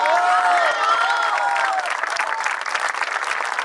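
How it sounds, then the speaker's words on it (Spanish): Loud, dense applause from a crowd at a political rally in Los Toldos, Argentina, steady clapping with a few cheering voices rising near the start. "un aplauso"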